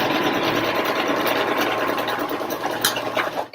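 A domestic sewing machine hums steadily and close while stitching thick fabric for a child's bucket hat. The run continues without talk and then stops abruptly at the end.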